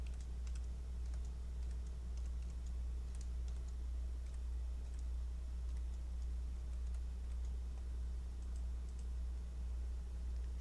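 Fingers tap on a computer keyboard in an irregular run of quick, light clicks, close but faint, set against a constant low electrical hum, with no voices.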